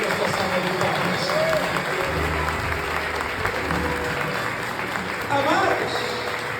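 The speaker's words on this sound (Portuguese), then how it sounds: "O que você está esperando para você glorificar o Senhor com a sua salva de palmas?" A church congregation claps steadily in a fairly quiet, continuous wash of applause, with faint voices and stray sounds mixed in.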